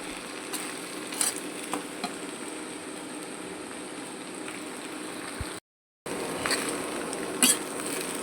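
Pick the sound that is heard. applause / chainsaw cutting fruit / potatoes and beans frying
potatoes and beans frying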